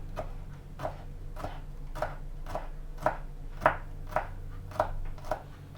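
Knife thinly slicing herb stems on a cutting board, about ten crisp evenly spaced chops roughly every half second, close and clear with no talking.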